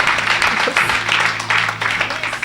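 A church congregation claps and cheers for Jesus in a loud, steady wash of applause and crowd voices that swells in waves throughout.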